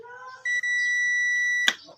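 A multimeter's continuity buzzer gives one steady, sustained beep lasting about a second while a TCL 50P727 television's circuit board is being tested, followed by a sharp click.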